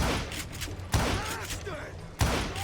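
Gunfire in the Western shooter Call of Juarez Gunslinger: two heavy, booming shots about a second apart over a busy game soundtrack, with voices heard.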